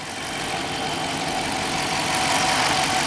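A 2017 Dodge Charger PPV police car with a 5.7 HEMI V8 and all-wheel drive, running at idle: a steady, unbroken engine drone held at an even level for the whole stretch, with no talk over it.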